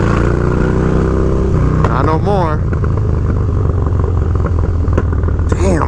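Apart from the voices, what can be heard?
Harley-Davidson Dyna Low Rider motorcycle engine revving, TBR exhaust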